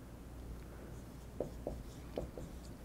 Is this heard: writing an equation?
yes